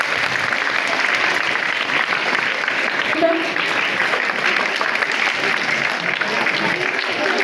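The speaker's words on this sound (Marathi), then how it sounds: "टाळ्या वाजवायच्या" An audience at a school Marathi Language Day function claps steadily, a dense, even patter of many hands that lasts several seconds, with a voice speaking over it.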